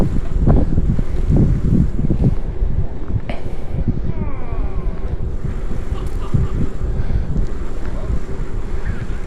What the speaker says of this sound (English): It's super windy today as well.